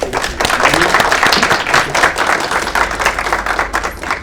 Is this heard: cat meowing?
no